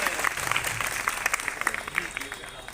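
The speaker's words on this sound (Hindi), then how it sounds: "सभी ताली बजाकर स्वागत करें।" Crowd applause at a wedding registration event held at a Maa Vaishno Devi temple, moderately loud with scattered sharper claps and some background voices mixed in throughout.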